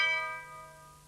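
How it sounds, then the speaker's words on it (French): A doorbell is pressed once, giving a bright ringing chime whose tones decay over about a second, fairly faint and alone with no voices. "Et il appuya sur la sonnette."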